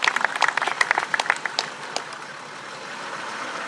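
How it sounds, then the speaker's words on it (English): Scattered applause and cheering for a best-in-class winner at the 2023 Orphan Car Show, claps strongest in the first two seconds then thinning into outdoor crowd and vehicle background noise. "let's give this man a round of applause"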